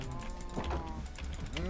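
A cow moos in Minecraft during cattle breeding, a steady low lowing that runs through the clip with a rising call near the end, close and alone over faint game background.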